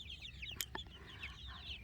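A flock of about 29 chickens clucks inside a chicken tractor, soft overlapping chatter with a couple of sharper close squawks, fairly quiet and without talk.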